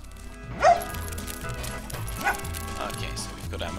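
Duke, a dog in the video game Agricultural Simulator Historical, giving a couple of short yips and barks a little way off, with a tonal hum and a voice talking underneath.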